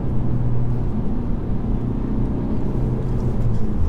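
A 2016 Ford Focus ST-3 diesel engine revving as it downshifts into third, heard from inside the cabin as a loud, steady low rumble that holds for a few seconds with no voices.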